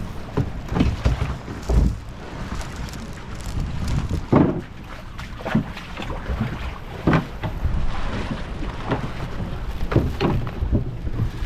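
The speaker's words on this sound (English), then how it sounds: "And now we're going on this guy's boat." Steady wind and water rush around a moving long-tail boat at sea near Phi Phi Island, Thailand, with engine rumble and intermittent thumps and splashes as the hull rides over waves.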